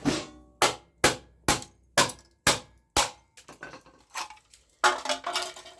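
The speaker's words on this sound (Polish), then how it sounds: "to otworzyć młotkiem." A hammer strikes a salvaged electronic part being broken open for silver, copper and brass recovery, with about eight sharp, evenly spaced bangs followed by quieter scattered clatter and a final cluster of knocks, close and alone.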